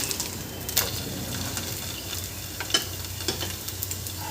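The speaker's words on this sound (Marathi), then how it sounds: "असेच हे दोन्ही साईडनी छान खरपूस भाजून घ्यायचे आहे आपल्याला" A garlic-leaf aayate crepe roasts in oil on a griddle, giving a soft continuous sizzle with occasional light clicks and taps near the middle and end.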